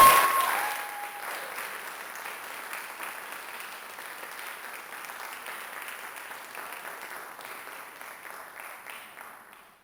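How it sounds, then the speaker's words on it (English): An audience applauds a speech and debate team member at a showcase, the clapping loud at first and then settling into a steady, fading patter heard from a distance with no voices over it. "So please give a round of applause for Stoyan."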